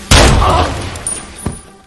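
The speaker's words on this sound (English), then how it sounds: "St. Clair's man then goes to check the gunshot" A single loud, close gunshot rings out in a tense action scene from the Taken film series, a sharp blast followed by a decaying rumble and a fainter second thump.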